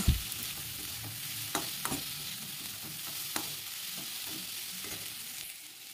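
Spices stir-fried in a pan with salt, turmeric and sugar while cooking taro stalks: a steady sizzle with a firm clack at the start, then scattered spatula scrapes and taps.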